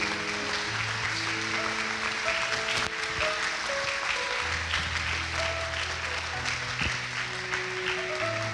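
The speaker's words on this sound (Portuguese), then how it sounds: "Vamos aplaudir esse Deus." Congregation applause in a church service, dense clapping carried throughout over sustained keyboard or organ chords that change beneath it, fairly loud and continuous with no speech.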